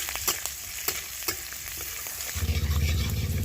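Chopped ginger and green chili hit hot oil in a kadai and are stirred, with scraping clinks of a spatula early on, then a louder, thicker sizzle swelling up near the end; no talking.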